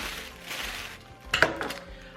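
A big roasting pan for a ham is handled, giving a couple of quick metallic clanks and knocks in a quiet kitchen amid faint background rustle.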